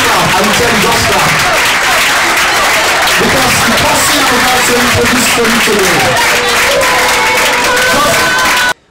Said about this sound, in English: please just clap